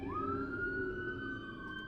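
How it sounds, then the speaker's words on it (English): A siren wails steadily through a short stretch of busy ambient noise, its tone rising and then holding high, with a faint second siren layered underneath as emergency vehicles pass. "okay, we got more ambulances or something"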